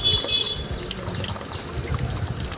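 Water runs steadily from an electric geyser tap with low pressure and fluoride buildup, a continuous splashing pour with a low, busy rumble throughout.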